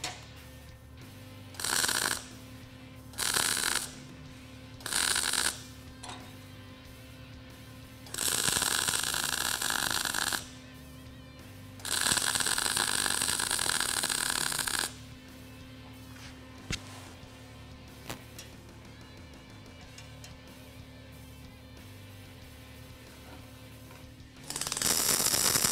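An Eastwood DC-rectified MIG welder running T-welds on 1/8-inch steel plate, with several short bursts of crackling arc followed by longer sustained buzzing welds, separated by quiet pauses and a low steady hum.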